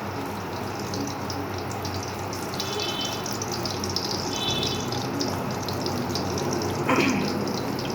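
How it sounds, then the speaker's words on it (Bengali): Bitter gourd (karela) sizzling in hot oil, a steady hissing fry that stays even and close throughout, with a brief clatter near the end. "তো এখন এটা ফ্রাই করে নেব।"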